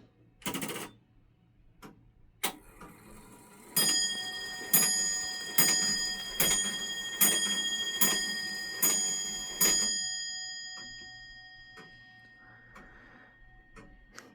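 After some clicks and knocks, an 1840s English longcase clock strikes a series of roughly eight evenly paced, resonant bell tones, their metallic ring lingering and fading out at the end.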